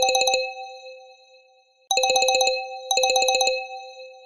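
A phone ringtone plays in repeated electronic bursts, loud and close with no voices: one burst, a pause, then two more bursts in quick succession.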